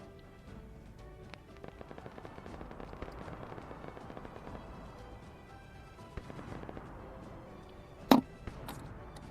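Scattered gunfire crackles faintly across an Arma 3 battlefield before a sharp, loud anti-tank blast bursts out near the end.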